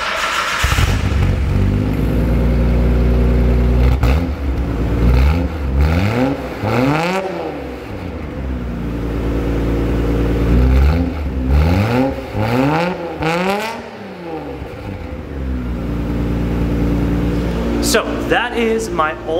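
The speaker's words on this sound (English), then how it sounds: "It's the Fujitsubo titanium exhaust with a custom test pipe, no cat" A Nissan Skyline GTR with a Fujitsubo titanium exhaust, custom test pipe and no catalytic converter revs repeatedly, sharp rising and falling engine blips close by, with a person talking over parts of it.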